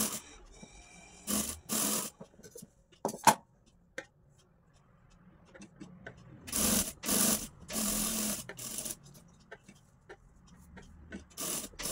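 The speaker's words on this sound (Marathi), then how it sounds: "आता काळजीपूर्वक आपण आपल्या इथे गळ्याला शिलाई मारू शकतो" Sewing machine stitching the neckline of a blouse, several short bursts of rapid whirring separated by quiet pauses and small clicks, fairly close and moderately loud.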